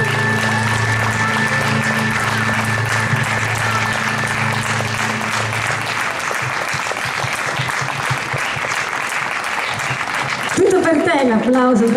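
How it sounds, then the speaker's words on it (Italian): Audience applause at a summer voice and music festival in Sammichele di Bari, dense sustained clapping from a crowd, loud and close, with music fading out underneath and a voice speaking over it toward the end. "Applauso Francesca"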